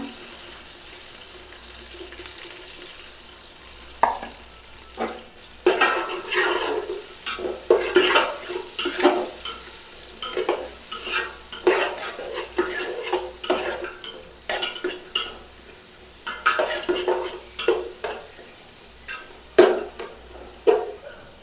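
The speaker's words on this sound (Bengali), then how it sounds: "তারপরে আমি পেঁয়াজ কুচি দিলাম" Chopped onions frying in a pan while being stirred, a quiet start giving way to repeated bursts of scraping and clattering from the spatula over a soft sizzle, close and uneven in rhythm, without talking.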